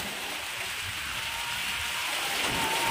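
Heavy rain pouring down in a village, a dense, steady hiss of falling water on surfaces, loud and unbroken throughout.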